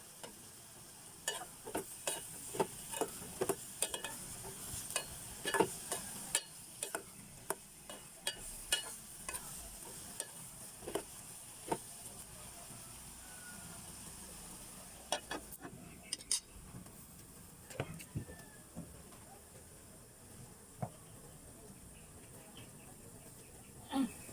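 A utensil stirs sautéed chayote in a pan, giving a steady run of sharp scraping clicks over a soft sizzle throughout.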